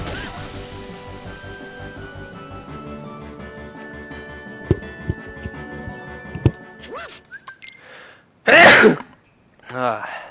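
A single loud, sharp sneeze bursts out near the end, preceded by game music, chimes and clatter from Kingdom Hearts II Final Mix, with a brief voice afterward.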